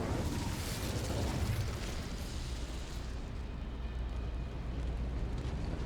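An Incendio fire spell cast in Hogwarts Legacy bursts out as a whooshing, explosive blast of flame that rumbles and fades over several seconds, with no talking.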